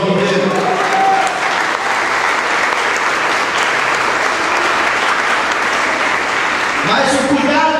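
A church congregation applauds during a communion service, with dense, sustained clapping filling the room for several seconds before a voice cuts in near the end.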